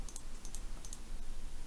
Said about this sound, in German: Ich glaube, man hört mein Mausklicken so ein bisschen.